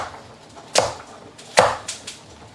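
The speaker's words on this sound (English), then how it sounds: "So just cut the pieces up about 2 inches long." Two sharp knife chops through celery on a cutting board, followed by a few lighter taps, close and distinct in a quiet room.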